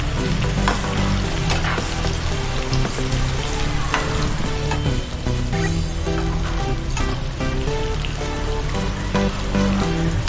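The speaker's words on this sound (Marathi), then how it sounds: "ऑनियन फ्राय करून घ्यायचं तांबूस होईपर्यंत भाजायचं" Onions fry in oil until brown, a loud, dense and continuous sizzle with bubbling crackle and occasional stirring, heard close throughout with no talking.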